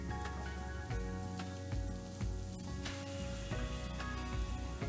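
Smoked hot paprika and chilli flakes sizzling and frying in a pan, a steady crackling hiss with occasional stirring scrapes, close and continuous.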